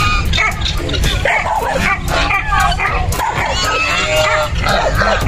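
Dogs yip and bark repeatedly up close amid busy outdoor noise, with people talking over the commotion.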